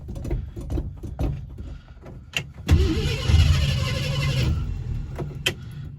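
A 1966 Ford Thunderbird with electrical trouble cranks in short bursts, then its engine catches at about the three-second mark and runs roughly for a moment before settling down, recorded close by with no one talking.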